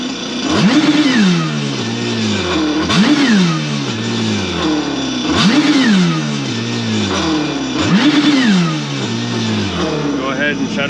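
A 2022 Kawasaki Ultra 310 jet ski engine, run out of the water on a cooling-system flush, revs up sharply four times in a steady rhythm, each burst winding back down toward idle, loud and close.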